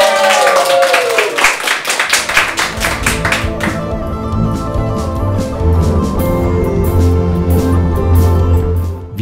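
A studio audience claps and cheers loudly at first, the applause thinning into scattered claps over a backdrop of music that carries on to the end.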